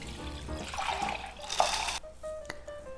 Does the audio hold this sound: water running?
yes